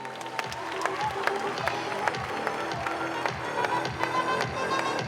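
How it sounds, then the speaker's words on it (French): At the 2023 Ballon d'Or ceremony, an audience applauds with dense, steady clapping and some crowd murmur, spread evenly across a few seconds. "Mesdames et messieurs, ça s'applaudit."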